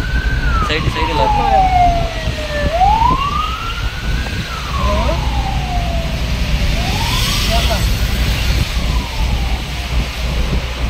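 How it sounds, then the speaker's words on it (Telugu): An ambulance siren passes on a highway, its loud wail sweeping down and up in long repeated cycles over a steady low vehicle rumble close by. "అంబులెన్స్ అయితే వస్తుంది ఫ్రెండ్స్, చూస్తున్నారా"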